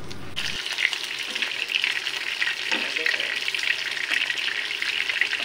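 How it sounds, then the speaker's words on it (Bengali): Fish frying in hot oil, cooked outdoors in the heat of the sun, gives a steady, close crackling sizzle that runs throughout, with occasional brief stirring or handling noises beneath it. "তাই আমি একটা তেলের শব্দ সহ আমি ব্লগে দিয়ে দিছি"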